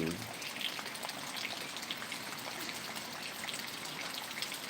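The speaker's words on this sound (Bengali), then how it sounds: "আমাদের এখান দিয়ে অনেক বৃষ্টি হচ্ছে" Heavy rain falls over a village canal in Tangail district, Bangladesh, a quiet, steady, even wash of watery hiss with no breaks.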